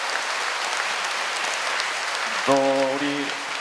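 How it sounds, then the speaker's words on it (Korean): Congregation applause at a First Communion church ceremony, a dense, continuous clapping throughout, with a brief tonal musical note rising partway through. "우리 배경미 순녀님, 우리 큰 박수로."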